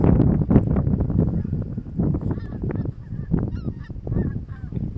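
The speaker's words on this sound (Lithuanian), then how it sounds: "Čia aš pamačiau žąsis skrendančias" A flock of geese in flight honks repeatedly, the calls overlapping in a busy chatter, with some wind buffeting the microphone.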